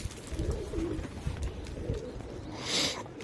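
Pigeons coo softly in low, throaty murmurs over a steady outdoor background, with a brief higher rustle or flutter near the end.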